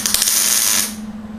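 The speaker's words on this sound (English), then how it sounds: "So what I want to do is I'm just going to tack this." Tack welding on metal gives a steady, close electric hiss and crackle over a low buzzing hum for just under a second, then cuts off, leaving the hum alone.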